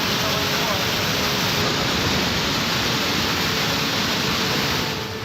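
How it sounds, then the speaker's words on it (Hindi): A floodwater torrent pours off a hillside into the Kedareshwar temple complex in Ratlam during heavy rain, a loud, dense and unbroken roar like a waterfall that fills the whole clip. "पहाड़ी से पानी की तेज धारा मंदिर परिसर में गिर रही थी"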